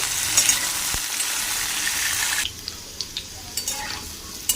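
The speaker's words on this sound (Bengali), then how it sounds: "এবার আলু ভালো করে ভেজে নেব।" Potatoes fry in a pan with cumin seeds and a dried red chili, a steady loud sizzle that drops to a quieter hiss halfway through, with light clicks of stirring.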